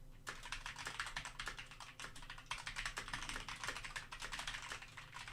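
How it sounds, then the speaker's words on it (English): Steady typing on a computer keyboard, captured through a USB streaming microphone: quick irregular clicking keystrokes, close and fairly loud, running continuously for the whole stretch with no talking. "And now let's just type on the keyboard."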